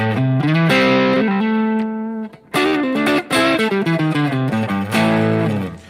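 An electric guitar played through an OCD overdrive pedal produces loud, distorted chords and sustained notes. It rings, cuts off briefly and then strikes again, with no talk over it.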